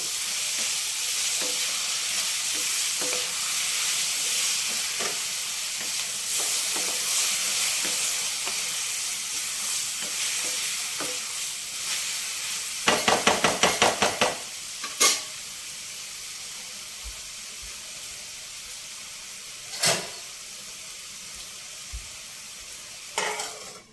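Tomato puree and chopped tomatoes for a paneer curry fry in a pan with a steady sizzle, while a spoon stirs and scrapes it in a quick rattling burst and later gives a few single knocks.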